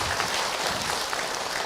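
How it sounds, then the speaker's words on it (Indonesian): Audience clapping for Ibu Rizky at a religious talk, a dense, even wash of hands held at moderate level throughout. "Tepuk tangan buat Ibu Rizky."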